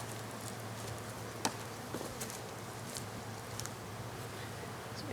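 Bees buzzing around hive wax left out near a squirrel-nest bee hive, a faint continuous insect drone with occasional brief ticks and pops, steady and low throughout.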